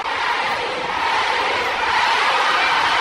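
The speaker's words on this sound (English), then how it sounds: "Pacquiao crowd chanting, Manny, Manny, Manny" A boxing arena crowd at a Pacquiao–Morales fight, a dense, loud roar of many voices chanting and cheering continuously throughout.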